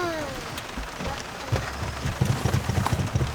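Steady rain drums on a stalled car in a forest, a dense continuous patter heard from inside the vehicle, with a few brief low voices under the rain.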